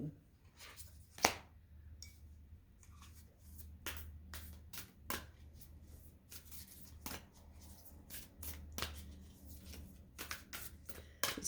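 Stiff, thick cards are shuffled and handled in irregular bursts of sharp riffling and tapping clicks, with quiet pauses and a low background hum.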